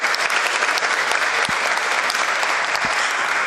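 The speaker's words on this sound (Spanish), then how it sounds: "yo pido un fuerte aplauso a esta Junta Directiva" A parliamentary plenary session fills with strong, sustained applause for the board of directors, many hands clapping loudly and evenly, with a couple of deeper thumps beneath the crowd.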